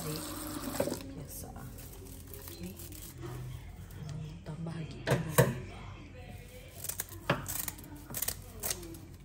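Tap water runs into a cooking pot while making Sarawak laksa broth, a steady splashing flow with clinks and knocks of metal, as a person talks over it.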